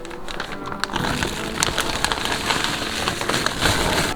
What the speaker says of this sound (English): it's time to pour in the hash browns.